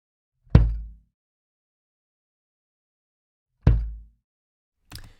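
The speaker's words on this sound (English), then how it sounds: "so this is a kick drum" A single recorded kick drum sample plays as three separate hits: two loud, deep thumps about three seconds apart, each decaying within half a second, then a shorter, softer hit at the end, with silence between them.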